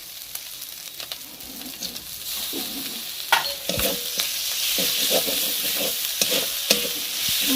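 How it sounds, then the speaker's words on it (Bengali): Onion paste for a jackfruit and potato curry sizzles in a hot pan, with a steady frying hiss throughout and intermittent scrapes and knocks of a spatula stirring it, close up. "পেঁয়াজ বাটাটা"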